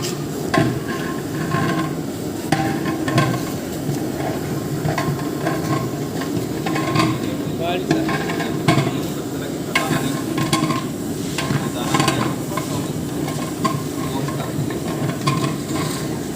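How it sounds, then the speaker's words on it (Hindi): Purani Delhi-style degi chicken korma is stir-fried on a high flame, with a loud, continuous sizzle and repeated scraping stirs against the pot throughout. "हम फ्लेम को हाई कर देंगे और इसको हम जब तक भूनेंगे जब तक इसमें दाना"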